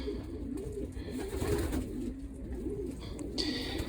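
A young pigeon in a loft, heard as low, soft cooing that murmurs steadily under background noise.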